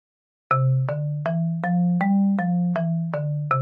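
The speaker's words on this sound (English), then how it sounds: "What you're hearing now is a marimba" A synthesized marimba melody from Chrome Music Lab Song Maker, nine evenly spaced mallet notes in a steady rhythm after a brief silence, clear and alone.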